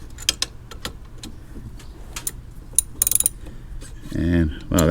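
Wrench ratcheting and clicking against a 15 millimeter oil drain plug under a Hellcat, a series of close, sharp mechanical clicks before a short voice at the end.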